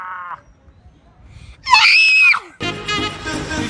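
Screaming and cheering from riders on a theme park ride: a strained shriek, then a burst of loud, rough crowd noise, with no clear speech.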